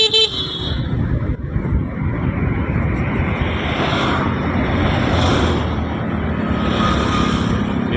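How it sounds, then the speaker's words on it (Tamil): Steady road traffic rumble with vehicles passing close by, a horn tooting early on and engine noise swelling and fading throughout. "இன்றைக்கி மண்டேனால கொஞ்சம் போக்குவரத்து கொஞ்சம் அதிகமாகவே இருக்குங்க."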